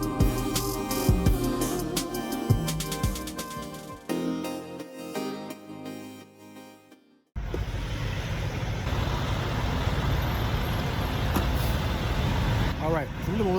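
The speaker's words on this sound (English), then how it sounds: "it's a little loud, truck idling back there" A truck idles steadily in the background, a continuous low engine rumble under someone talking nearby during a hood mirror repair.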